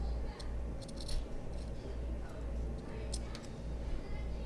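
Scissors snipping the end of a zipper while sewing a convertible bag: a few quick, crisp cuts in two small clusters over a low room hum, fairly quiet and close.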